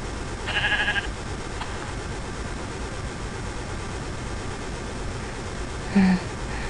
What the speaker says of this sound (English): You creepy, creepy sheep.